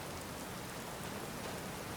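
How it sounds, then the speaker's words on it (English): Rain falls in the video game Skyrim: Special Edition, a steady, dense hiss of drops that stays even and unbroken throughout, fairly quiet with no voices over it. "Oh, it is raining."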